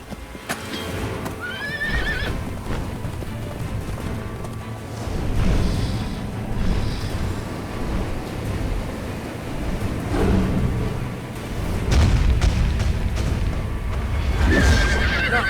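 A unicorn mount in Riders of Icarus neighs loudly and gallops with a steady clip-clop of hooves, close and prominent, with booming game sounds in the background and a second whinny near the end.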